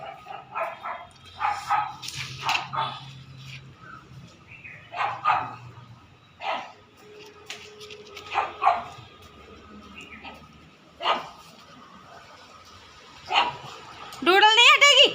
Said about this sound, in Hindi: तुम्हारा कुत्ता बहुत भौंकता है।